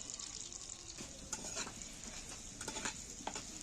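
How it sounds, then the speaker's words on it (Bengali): Chopped ginger sizzling in hot oil in a pan, a faint steady frying hiss with a few soft stirring scrapes, no voices. "প্রথমেই আমি আদাটা তুলে দিচ্ছি তেলের মধ্যে"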